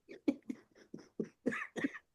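A series of about eight short, close coughs in quick succession, each a brief throaty burst, with no talking.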